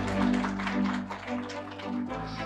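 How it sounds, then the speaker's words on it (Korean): Audience applause at a university anniversary award ceremony as a prize winner is called to the stage, fairly soft and brief clapping from a hall crowd over a steady low hum. "큰 박수로 맞아주시기 바랍니다."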